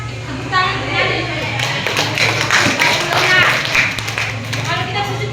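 Students in a Catholic religious education classroom clap together in a brisk burst of applause, with chatter and a steady low hum beneath the clapping.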